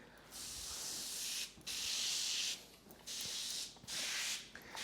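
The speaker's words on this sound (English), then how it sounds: "spray the paper to make it pliable" Four long hissing sprays of beef broth and water onto butcher paper in a row, each lasting about a second, separated by short pauses, close up with no talking.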